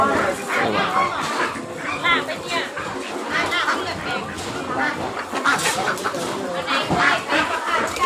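At a busy live poultry market in Bang Bon, many chickens and ducks cluck and quack over one another without a break, a crowded, close and continuous clamour, with someone talking through it.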